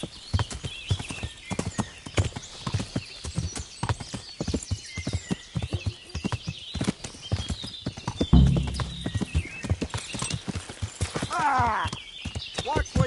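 Horse hooves clip-clop in a rapid, regular rhythm in Kingdom Come: Deliverance, close and prominent, with a brief heavier thud midway and a short whinny near the end.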